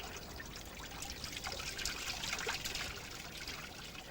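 Water draining out of a car's flushed cooling system, a faint, steady trickle and gurgle of liquid that swells slightly in the middle, with no voices.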